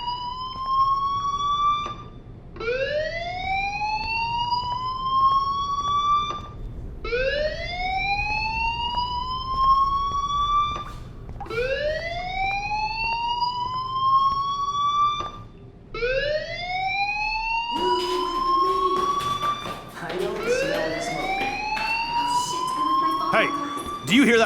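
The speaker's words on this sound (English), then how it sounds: "Do you hear that fire alarm?" A school fire alarm wails in the video game Life is Strange, five rising siren sweeps repeating every few seconds, loud and close, with other sounds and voices crowding in near the end.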